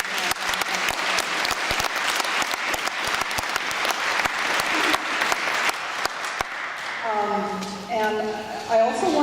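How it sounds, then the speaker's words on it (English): A public hearing audience on an Edgewater mega-casino application applauds the volunteers with a steady round of clapping, which thins out near the end as a voice begins to speak. "give a round of applause to all the people who have volunteered their time"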